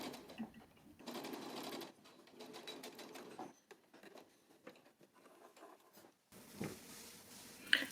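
A sewing machine runs a long basting stitch along a pillowcase seam in fairly quiet, close bursts of rapid needle patter, separated by short pauses.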